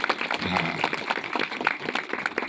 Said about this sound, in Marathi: दादांसाठी एकदा टाळ्या वाजवा, जोरात टाळ्या वाजवा